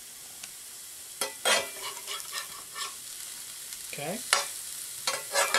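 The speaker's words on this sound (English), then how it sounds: "I'm going to go ahead and flip this onion" Onions sizzle and scrape in a hot pan while being flipped for a crab chowder, with several bursts of stirring and clatter over a steady frying hiss, close up, and a voice speaking briefly.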